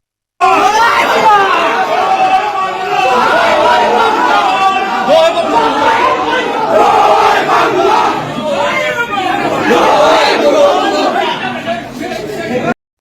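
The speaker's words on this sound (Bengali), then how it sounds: "আদালতের অভ্যন্তরের আওয়ামী লীগের নেতাকর্মীরা জয় বাংলা স্লোগান দিয়ে বিশৃঙ্খলার সৃষ্টি করে" A crowd of Awami League activists chanting Joy Bangla slogans inside a courthouse in Sunamganj, loud rhythmic shouted chants with overlapping voices sustained throughout.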